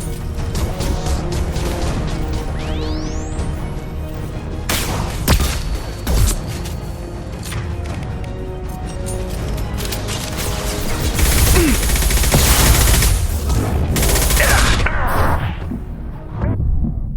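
Gunfire in a shooter video game: scattered booms, crashes and whooshing hits sound over a dense, busy game soundscape, with the loudest barrage toward the end.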